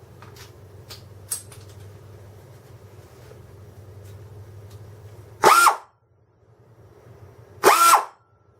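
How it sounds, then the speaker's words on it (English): A 3/8 ratchet in a workshop, heard as two short, close bursts of rapid mechanical clicking a couple of seconds apart, following a stretch of low steady hum; no one speaks. "And my 3/8 ratchet."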